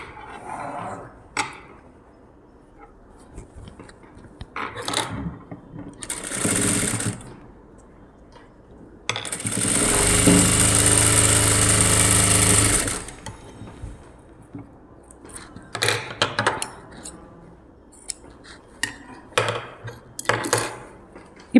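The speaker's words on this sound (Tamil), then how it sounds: "2 சைட்லேயுமே படிமான தையல் போட்டுடுறேன்" A sewing machine stitching the front piece of a princess-cut blouse runs in one sustained three-second burst amid scattered short machine runs, clicks and handling noises, close by.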